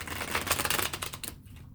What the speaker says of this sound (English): Two more shuffles, baby,